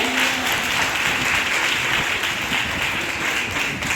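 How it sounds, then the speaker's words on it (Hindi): An audience at a college seminar claps in a dense, steady burst of applause that stays loud and even for its whole length. "एक जोरदार तालियां हो जाए।"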